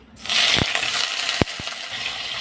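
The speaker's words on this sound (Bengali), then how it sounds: "কড়াইতে সর্ষের তেল দিয়েছি চিংড়ি মাছ দিয়ে দেব" Prawns hit hot mustard oil in a wok with a loud, steady sizzle, broken by a few sharp clatters of stirring close by.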